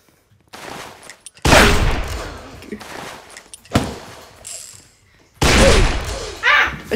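Video game gunfire comes in loud, sharp bursts of rapid shots separated by near-silent gaps, with crackling echoing tails and a thud among them, close and dominant over brief voices.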